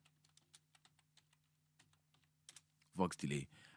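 Quiet typing on a computer keyboard while naming a vocal delay track in Studio One, a steady string of soft separate key clicks followed by a short spoken phrase at the end.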